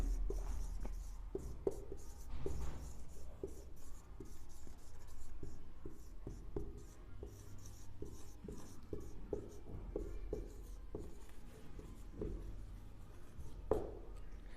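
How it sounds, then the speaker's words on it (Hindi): A teacher writing on a classroom board with rapid, scratchy strokes that run continuously and fairly faintly, with small taps and pauses between the words being written. "यहाँ पर लिख देते हैं"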